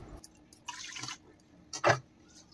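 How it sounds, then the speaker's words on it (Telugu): A cup of water is poured into rice and milk in a pressure cooker pot for bellam paramannam, heard as two brief, fairly quiet splashing bursts of liquid with short pauses around them. "సేమ్ ఇదే కప్పుతో 1 కప్పు వాటర్ కూడా వేస్తున్నానండి"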